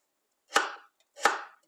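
Two sharp knife chops through potatoes, cutting them into cubes on a board, spaced about two-thirds of a second apart, close and crisp with short decaying tails and silence between.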